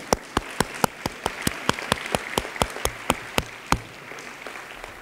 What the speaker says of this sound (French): Stéphanie, applaudir